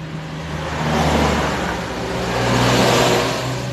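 A Honda TMX155 CDI motorcycle engine with a faulty idle gear runs loud and rough up close, a steady mechanical clatter that swells and eases slightly.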